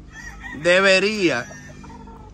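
A young gamecock chick of game-fowl stock calls out once, a single strong, wavering cry lasting under a second, loud and close against a steady low background hum.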